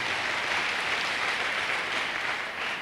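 Audience at a business training session applauds, a faint but steady, even wash of clapping throughout with no talk over it.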